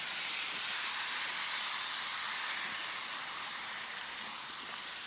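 Beef stock hits a hot pan of mushrooms and onions with a loud, continuous sizzling hiss of steam that holds steady throughout, close up and alone.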